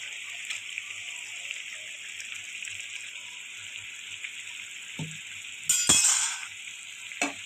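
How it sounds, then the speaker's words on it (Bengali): Fish roe curry simmers and bubbles in a pan with a steady hiss, followed by a louder splashing burst as the roe is tipped in and a short clatter near the end. "ভালো করে ফুটে গিয়েছে এবার দিয়ে দেব ডিম"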